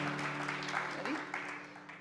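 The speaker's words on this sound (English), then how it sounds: "How about a big round of applause for one of the greatest old-time acts" A crowd applauds an old-time Appalachian music act. Broad, continuous clapping rolls through a hall, with a sustained hum and faint voices underneath.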